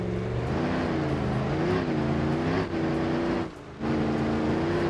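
A supercharged diesel engine in the Automation car-building game revs hard and steady, its loud droning tone rising and wavering, with a brief dip in the middle before climbing again.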